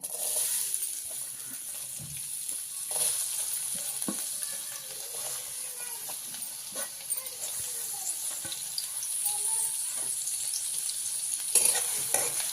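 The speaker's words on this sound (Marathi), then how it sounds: "तेल गरम झालेलं आहे, तर आपण कांदा परतून घेऊया" Steady sizzling of onion frying in hot oil, with occasional scraping and stirring clicks, close and continuous.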